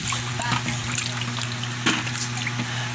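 Water pours steadily into a container being filled for swimming at home, a continuous splashing trickle close by with a low hum underneath.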